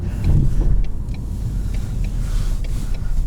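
A 2020 Ford Mustang EcoBoost convertible engine, automatic, in track mode, drones steadily at close range, a low continuous rumble with faint rattles and road noise, no voices.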